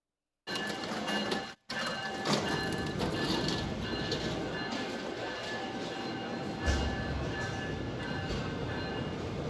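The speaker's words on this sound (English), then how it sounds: "Here is the U.S.'s bullet train that goes the speed of a slower Yugo." U.S. train passing, a steady loud rumble and rattle of rail cars that holds throughout, with a brief cutout near the start and faint bird calls mixed in, no talking.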